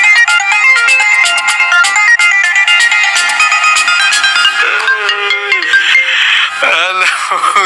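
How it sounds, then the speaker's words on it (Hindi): A loud electronic ringtone plays a bright repeating melody, close and insistent, filling the whole stretch with no talk over it. "डॉली तुम मुझे फोन क्यों कर रही हो?"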